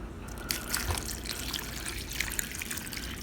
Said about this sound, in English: The next thing I do is I add some water. This is about 3 cups of water.